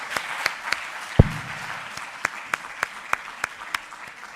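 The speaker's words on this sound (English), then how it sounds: "a big round of applause" Sparse, fading applause at a sustainable tourism conference in Split, a few distinct claps spaced apart and one louder thump early on, with quiet room tone between them.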